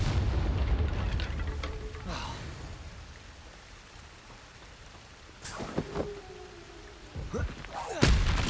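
A spell blast in the Hogwarts Legacy video game, heard as booming explosive thuds with a rumbling low end, a couple of sharp bangs among steady background game noise.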